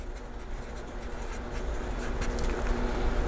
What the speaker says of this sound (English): I'm just going to write, instead of the color, I'm just going to write Sharpie.